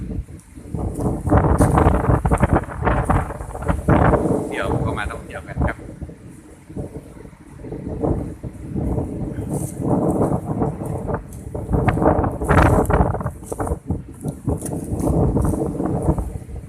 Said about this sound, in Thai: ลมพัดจัดมากครับ